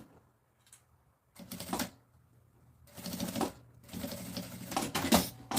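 Sewing machine stitching a zipper onto a fabric bag, running in three bursts of rapid mechanical chatter separated by short pauses, close and clear with no talking.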